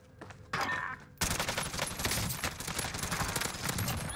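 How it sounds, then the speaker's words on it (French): Gunfire in a Warzone match, including a sniper rifle shot, with a loud sharp crack breaking in after a brief quiet stretch, then continuous rattling shots and impacts. "J'ai tiré la balle de snipe, mais elle est passée en dessous"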